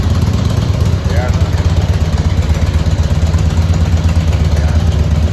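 A motorcycle engine idles steadily and close by in an outdoor parking area, a continuous low throbbing rumble lasting throughout with no revving.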